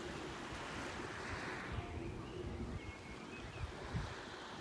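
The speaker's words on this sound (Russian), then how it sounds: "Море спокойное. Прозрачное." Calm, clear Black Sea at Sochi on a mild day with a light breeze, a soft continuous wash of small waves with some wind rumble, fairly faint and distant, no voices.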